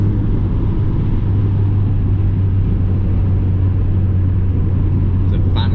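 A Mazda MX5 drives along a road, its engine giving a steady, loud rumble with constant road noise throughout, recorded from inside the car.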